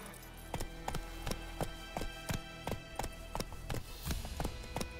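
Horse hooves clip-clop in a steady trotting rhythm, about a dozen sharp hoofbeats in five seconds over a low ambient game soundscape in The Witcher 3.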